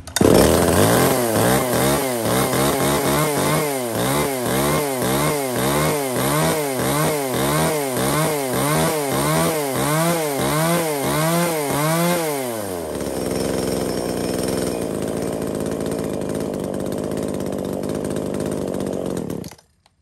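A small 33cc handheld chainsaw runs loud and close, revving up and down in a steady rapid rhythm, then settling into a continuous high idle for the last seconds.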